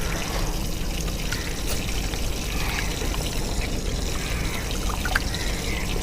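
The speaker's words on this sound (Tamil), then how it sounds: "இதெல்லாம் சேர்த்து கரைச்சி வச்சுருக்கேன் இப்போ இதில் வந்து நம்ம ரசத்துக்கு சேர்த்துக்கலாம்" Dissolved spice mixture poured into a pot of rasam, a continuous close liquid splashing and trickling that holds steady throughout.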